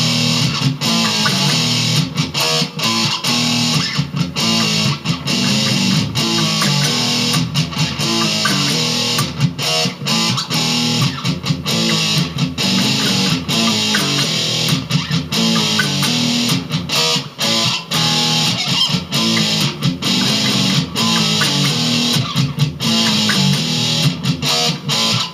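Heavily distorted electric guitar chugging through a riff, a dense, loud, continuous wall of gain with repeating palm-muted rhythms and no voices.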